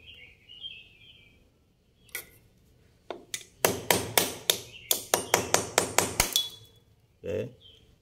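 Nails are hammered into a plastic pipe fitting in a quick series of sharp, close taps, coming in a rapid burst of strikes after a few isolated hits.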